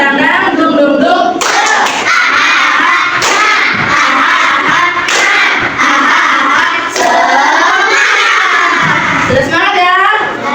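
Children in a classroom performing a rhythmic group spirit clap, sharp claps punctuating loud chanted and sung voices, close and lively for about ten seconds.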